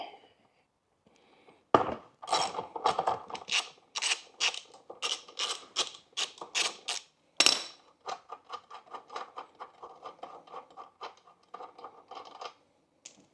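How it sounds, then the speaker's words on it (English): Axle bolts on an electric bike's rear hub motor being loosened with a ratchet wrench, steady rhythmic clicking and ratcheting close up, with a couple of sharper knocks and no talking. "We're gonna go ahead and take off these bolts to our axle."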